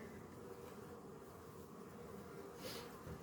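Honeybees hum steadily around an open hive during an inspection, a dense continuous buzz close by with one louder bee passing near the end.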